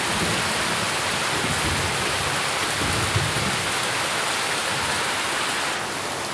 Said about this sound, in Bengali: এই যে বৃষ্টি পড়ে জোরে জোরে জোরে জোরে বৃষ্টি পড়ছে